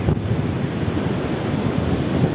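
Ocean surf at Pandansari beach on the south coast rolls and washes steadily, a close, continuous broadband roar with heavy wind buffeting across the microphone.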